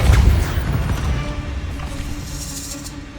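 Depulso force spell cast in Hogwarts Legacy, landing as a heavy low thud and crash at the start, then a rumbling tail that fades over about three seconds with faint effects on top.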